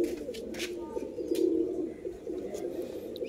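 Pigeons cooing at a breeder's loft, with a steady low murmuring coo running throughout, swelling slightly in the middle, close and moderately loud with faint higher chirps above.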